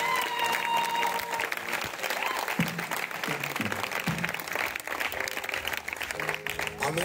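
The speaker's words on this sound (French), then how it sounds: "Acclame pour Jésus" Church congregation cheering and applauding at an evening service, a dense sustained roar of clapping and voices that stays loud and steady throughout.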